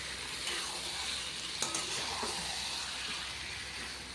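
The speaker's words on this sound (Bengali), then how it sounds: "আগে মশলাটা কষিয়ে নিই" Spice masala fries in a pan for a chicken curry, making a continuous low sizzle and hiss with a few brief stirring clicks.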